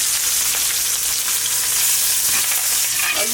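Steak sizzles steadily in a tray with garlic, butter and rosemary, a loud, continuous frying hiss with faint crackles and no voices.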